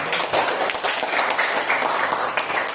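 Applause for a student group in a classroom lesson, a steady patter of many hands clapping at moderate volume throughout, with faint background noise.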